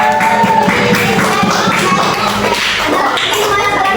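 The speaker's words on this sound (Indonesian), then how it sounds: "Tepuk tangan buat kelompok Naura." A classroom of seventh-grade students applauds a winning group, a loud dense burst of clapping from many hands close by that carries on for the whole stretch.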